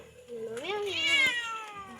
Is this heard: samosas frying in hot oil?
no